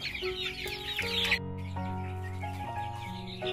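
Free-range native Thai chickens, yellow-bodied with white tails, cluck repeatedly in a mixed flock. The clucking is close and steady, layered over a continuous background hum, with no one talking.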